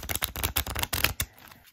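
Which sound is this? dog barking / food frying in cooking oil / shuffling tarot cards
shuffling tarot cards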